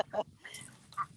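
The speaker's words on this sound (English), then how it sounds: "Here comes the ducks." Several garden ducks quacking close by in short bursts, with a person talking over them outdoors in July.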